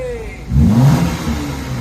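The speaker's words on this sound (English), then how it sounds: "Sounds like a normal car now." A Cadillac engine after an exhaust leak repair revs once, a short rising mid-pitched roar that swells close by and then settles back toward idle.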